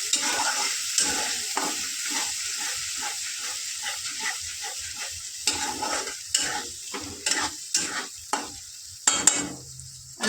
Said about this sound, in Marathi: आता आपण अंडे टाकून घेऊ. परत मिक्स करून घेऊ चांगलं.